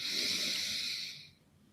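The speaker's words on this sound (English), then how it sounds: "Keep breathing. Inhale, open, allow everything to open." A single long, slow breath sounds close and soft, a steady airy rush lasting about a second before fading out into near silence during a guided breathing exercise.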